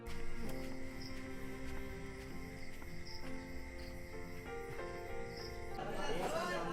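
Crickets chirp steadily in the distance on a calm night in rural Bangladesh, a faint continuous trill with a soft hum beneath, and a brief rustling swell near the end.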